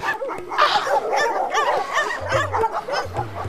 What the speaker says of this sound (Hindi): कुत्ते क्यों भूक रहे हैं यहाँ पे?